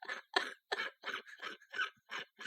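A string of about eight short, harsh coughs in quick succession, close to the mic, with brief gaps between each burst.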